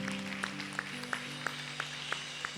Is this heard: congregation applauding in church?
yes